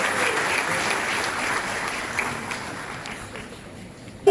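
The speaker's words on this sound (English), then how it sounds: "A round of applause, please, ladies and gentlemen." Audience applause at a rural entrepreneur award ceremony, a dense, steady wash of clapping from a crowd that holds for several seconds and slowly thins toward the end.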